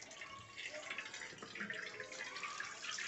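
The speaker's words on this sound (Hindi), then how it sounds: "अब इस पर हम ठंडा पानी डालेंगे" Cold water pours steadily over boiled spinach in a container, a continuous splashing gush heard close up, with faint background sound.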